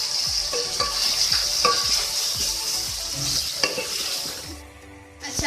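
Tomato masala with ground red chilli powder frying in a pan, a continuous bright sizzle broken by regular spoon scrapes and clinks of stirring, close and fairly loud, fading near the end.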